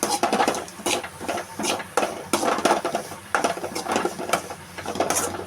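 Carrots being sautéed in a pan for paniyaram make a busy clatter of spatula scrapes and metallic clinks against the pan, irregular and fairly close, over a low background hiss.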